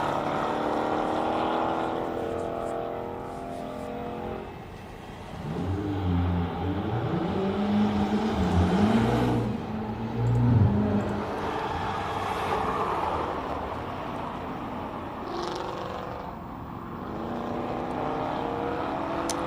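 Ford Mustang race cars at Simola Hillclimb, loud engine roar passing with shifting, rising and falling tones, a strong low rumble peaking mid-way before fading into a steady distant drone.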